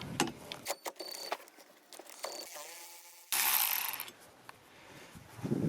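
A ratchet with a 15 mm socket works the wiper arm nut on a Jeep Grand Cherokee, giving short metallic clicking bursts and scrapes, with a brief rushing noise midway and quiet gaps between.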